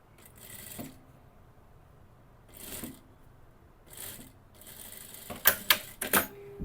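A sewing machine stitches an asymmetric dress in short bursts: three brief whirring runs spaced apart, then sharper clicks and clacks close by, with no talking.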